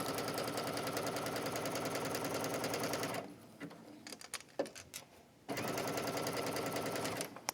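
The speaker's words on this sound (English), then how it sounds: "I'm just going to stitch down this side." A sewing machine stitching fabric for a faux wrap dress, running in a fast steady whir, stopping briefly for a few clicks and handling sounds, then resuming at the same pace, close and clear.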